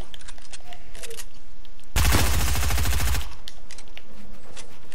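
A fully automatic gun fires a rapid burst of just over a second in the Fortnite battle royale game, loud and close against quieter ambient game sounds.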